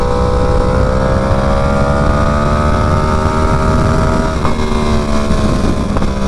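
A Yamaha R1 superbike engine with an aftermarket exhaust drones loud and steady, close by, its harmonics rising slowly through a long pull with no talk over it.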